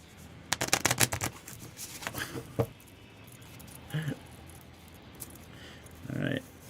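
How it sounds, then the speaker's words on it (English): Playing cards being ripple shuffled, a quick fluttering burst of riffled cards, then a short tap and a second brief riffle, close and fairly quiet, with a voice briefly audible. "Close your ears if you don't want to hear the ripple shuffle."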